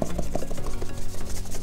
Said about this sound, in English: you go over it with a clean cloth and try to remove all the excess